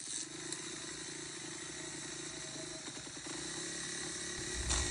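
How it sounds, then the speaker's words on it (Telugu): An old Hero Splendor motorcycle runs on a highway with a steady low engine drone and mechanical rattle. The sound stays constant and moderately close throughout, rising slightly near the end. "పాత స్ప్లెండర్ బైక్."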